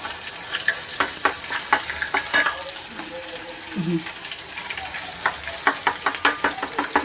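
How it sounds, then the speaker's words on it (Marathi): A ground masala paste roasts in hot oil with a continuous crackling sizzle, broken by repeated spatula scrapes and stirring clicks close by. "छानपैकी हा वाटप ना तेलामध्ये भाजून घेणार"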